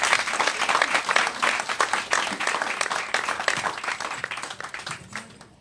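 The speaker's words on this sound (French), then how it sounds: "Je vous demande d'acclamer très fort pour M." An audience at a political coalition gathering in Atong Abé breaks into loud, sustained clapping that gradually tapers off, with a voice faintly heard beneath.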